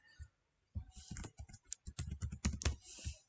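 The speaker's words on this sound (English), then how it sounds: "Okay, I'm entering the password" A password is keyed in on a computer keyboard: a short, quick burst of crisp key clicks in an uneven rhythm, close and clear in a quiet room, with one tap after a brief pause before the run.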